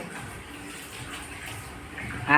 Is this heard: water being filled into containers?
yes